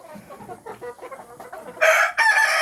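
On a home chicken farm, hens give a run of soft, broken clucks close by, then a single rooster bursts into a loud crow that stops briefly and resumes.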